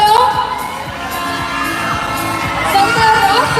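A large crowd at the Ginoong Sta. Rosa pageant finals night in Santa Rosa cheers and shouts continuously, loud and dense, with a thumping beat and whoops throughout.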